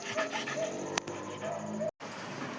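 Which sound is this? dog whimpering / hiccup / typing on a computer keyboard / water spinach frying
dog whimpering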